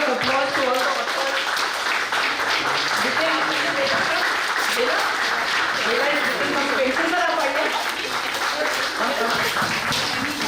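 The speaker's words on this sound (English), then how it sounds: "Please give a round of applause to all the authors." Audience applause for the authors at a book launch celebration, a steady dense wash of clapping running throughout with voices talking and calling over it.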